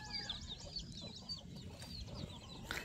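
Chickens kept on a farm cluck in quick, faint, overlapping calls, with soft chirps among them and a sharper call near the end, over low ambient rumble.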